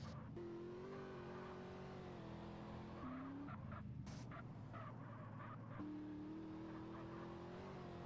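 Cars race and tires squeal during a police chase in a PS2 GTA-style game, with engine tones that rise and fall, brief skids and faint scattered effects, all fairly quiet and without talk.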